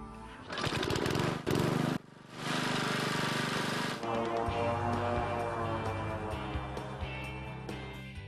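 A lawn mower engine runs loudly and close while mowing a lawn, a steady rough drone with brief dips and surges in pitch.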